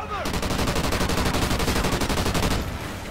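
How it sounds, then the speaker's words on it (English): An LMG in Call of Duty Ghosts fires a sustained, rapid burst of loud, evenly spaced shots for a few seconds, then stops, with a voice briefly audible. "I have an LMG now."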